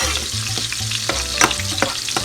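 Sweet onion frying in a pan for mushroom gravy, a steady close sizzle broken by a few sharp scrapes of stirring, with no voices.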